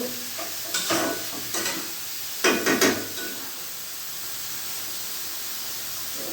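Meat and potatoes are stirred and sautéed in a pot, with a few scraping stir strokes over a steady low sizzle and hiss, close by and fairly quiet, with no talking.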